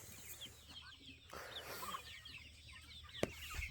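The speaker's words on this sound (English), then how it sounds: "That's my Tuffy, the Turkey." Soft clucks and chirps from a turkey among many birds outdoors, several short calls scattered over a quiet background with one sharp nearby knock.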